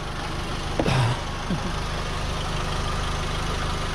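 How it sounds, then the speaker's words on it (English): A 2007 VW Beetle engine cranks briefly and catches, then settles into a steady low idle that continues evenly to the end. "do a cranking test. Says to start the engine."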